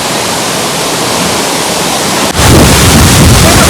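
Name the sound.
Devkund waterfall, water falling down a rock mountain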